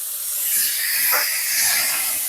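Cumin paste and a splash of water hit a hot pan for a light rohu fish curry with potatoes and ridge gourd, setting off a loud, continuous steamy hiss that swells and eases without pause.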